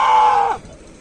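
A goat gives a single loud, close bleat that holds steady for about half a second before cutting off, leaving a quiet background.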